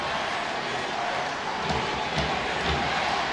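Football stadium crowd at the 2014 SWAC Championship, Alcorn State versus Southern, roaring steadily with a few low thumps rising near the end, a continuous dense cheer.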